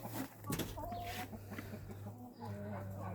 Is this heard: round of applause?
no